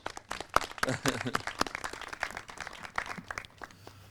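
Light audience applause at a property signing ceremony, a thin patter of scattered hand claps, fairly quiet and uneven, with faint voices underneath.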